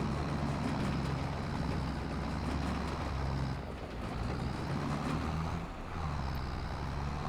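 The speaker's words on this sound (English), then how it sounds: "the tractor's definitely struggling to pull it" A tractor in Farming Simulator 25 hauls a heavy trailer load of bales, its engine a steady, loud, low drone that dips briefly a couple of times while it strains, with no talking.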